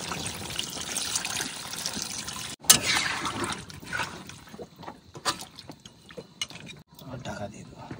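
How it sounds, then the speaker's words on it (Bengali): Water pours into a cooking pot holding live kaine fish at an outdoor riverside spot by the Matla river, a steady splashing stream followed by clinks and trickles while someone talks. "এবার জল দিয়ে দেবো মোটামুটি।"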